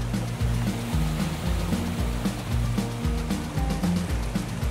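Waterfall in the Blue Ridge Mountains near Asheville, heard as a steady, full-bodied rush of falling water with a continuous broadband roar and a low rumbling pulse, no voices.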